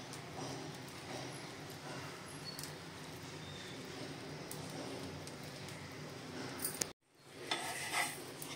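A spongy dosa cooks on a hot pan with a steady, close crackling sizzle that holds for several seconds, then cuts off briefly before resuming with a few louder clatters.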